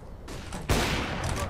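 Gunshots in the shooter CS:GO, a couple of sharp loud cracks with a heavy burst near the end of the moment, close and dense against a noisy game background.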